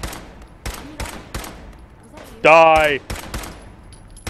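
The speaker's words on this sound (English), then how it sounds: "it was the guy shooting at us" Gunfire from a raider in Fallout 4 cracks out as a rapid series of sharp shots spaced through the moment, with a shouted game voice cutting in midway.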